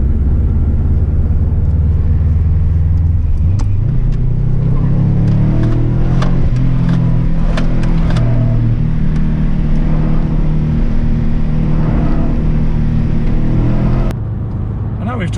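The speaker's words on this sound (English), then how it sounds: "Making my way out onto the track here at Luddenham for a little warm-up" A Subaru BRZ pulling out onto the Luddenham race track, its engine a loud, steady low drone and rising rumble heard from inside the car, with someone talking over it throughout.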